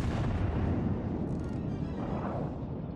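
Main guns of the battleship Nelson fire in World of Warships, a loud booming artillery blast with a rough, rumbling roar that decays over a few seconds, with no speech.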